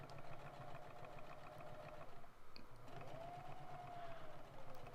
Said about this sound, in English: He's just gonna go ahead and sew the piece that he bent over or flopped over.